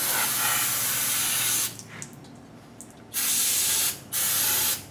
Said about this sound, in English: A little carburetor cleaner.